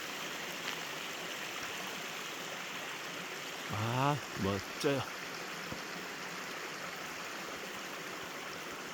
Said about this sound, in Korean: 제 집 앞에는 이렇게 멋진 시냇물들이